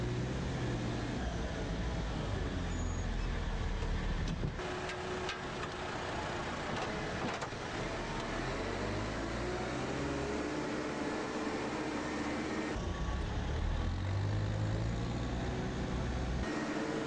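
A digger loader's engine drones and whines as the loaded bucket is raised and dumped into a truck skip. The machinery noise is loud and continuous, with low rumbles and shifting hydraulic tones, and no talking.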